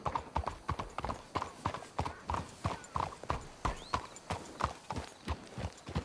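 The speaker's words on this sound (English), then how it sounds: "Let's hitch the horses up ahead." Horses gallop in the Red Dead Redemption 2 video game: a steady run of close, sharp hoofbeats in a quick, repeating rhythm, with no talk over them.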